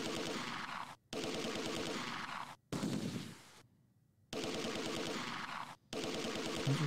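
Sustained bursts of small-arms and machine-gun fire in the World War II strategy game Close Combat 2, loud dense volleys broken by short pauses, no talking.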